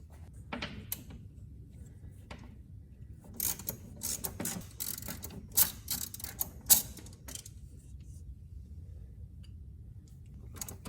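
A ratchet wrench works on car bolts, giving bursts of quick clicking pawl ticks separated by short pauses, close but fairly quiet against a low background hum.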